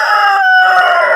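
A rooster crows loudly and close in one short, strained call, from a backyard flock of two roosters and three hens that are eating rice and drinking water.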